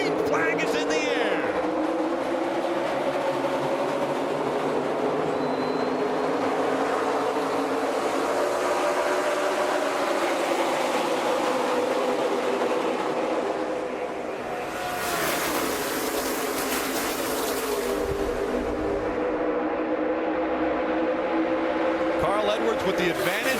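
NASCAR stock cars thunder around Daytona in the 2016 Coke Zero 400, a loud, sustained pack roar swelling as the field comes out of turn 2, with an announcer talking throughout.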